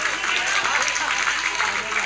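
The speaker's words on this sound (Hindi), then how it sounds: "आपने तालियां नहीं बजाई अभी तक।" An audience applauds during a staged dance-drama of Prince Nemi Kumar's wedding procession, with a continuous, fairly loud patter of many hands clapping throughout.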